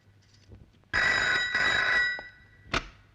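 A telephone bell rings loudly in two long bursts with a brief gap, followed by a short final ring, in an indoor scene from a Mithun Hindi film.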